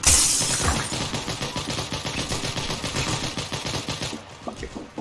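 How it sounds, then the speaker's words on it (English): Gunfire in a video game, a dense continuous barrage of rapid automatic shots, loud and close, easing slightly near the end with no voices over it. "a lot of shooting"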